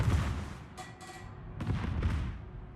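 Warship secondary guns firing in a naval video game, several dull booming shots in close succession over a low rumbling background, moderately faint and distant.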